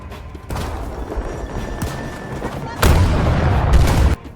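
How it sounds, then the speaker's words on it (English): Main cannon of a tank firing in Battlefield 2042, heard as loud broadband blasts with a heavier boom near the end, rumbling close against a steady game background. "the main cannon on the tank firing creates a blast wave that does interact with the trees around me"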